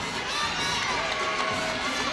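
Crowd at a women's college gymnastics meet cheers steadily through a floor routine, a dense continuous roar with shrill voices that holds at a constant level across the arena.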